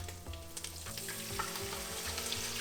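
Strained tomato puree hits browned ginger-garlic paste in a hot pan while butter chicken is being made, setting off a steady, close sizzle and crackle with no talk.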